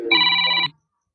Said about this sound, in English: Who's ringing now?